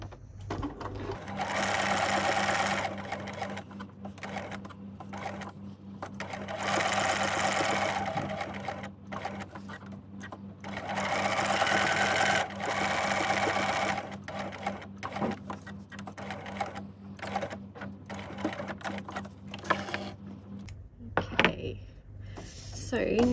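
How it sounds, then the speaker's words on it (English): Sewing machine running a long straight stitch around the edge of a decorated gift card holder, a steady mechanical whirring in three sustained bursts with short pauses between, close and loud, ending in a few soft handling clicks. "I'm just going to go back to my straight stitch just to stitch it on all the way around first"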